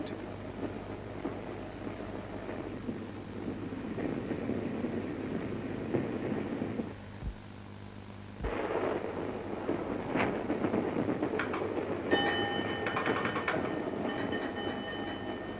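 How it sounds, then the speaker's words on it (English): A train rumbles along the rails with a steady roar and occasional sharp clacks, wind buffeting the microphone, and faint higher tones appearing toward the end. "still the train speeds on"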